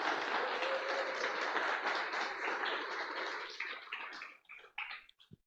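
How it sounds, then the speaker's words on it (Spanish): A church congregation applauds: dense, steady clapping from many hands that holds for several seconds, then thins into scattered last claps and fades out. "¿No le damos un aplauso al Señor?"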